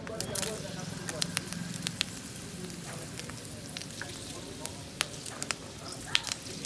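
Dried chillies and bay leaves sputter in hot oil in a kadai, a close, crackling sizzle full of sharp pops, with a voice heard over it.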